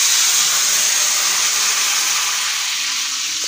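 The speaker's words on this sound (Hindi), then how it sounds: "गोला मिर्च और कड़ी पत्ता पहले मैंने इसमें डाला है कि थोड़ा सा फ्राई हो जाए" Dried coconut and curry leaves sizzle in hot oil and ghee, a steady close frying hiss that holds evenly throughout with no talk over it.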